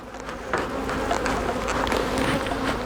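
Russian honey bees swarm around an open hive during an inspection, their dense, continuous buzzing close and steady, with individual bees whizzing past the microphone.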